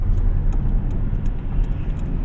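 A 2001 Toyota Camry LE engine strains under kick-down acceleration, a loud, steady, low droning roar with road noise and no one talking.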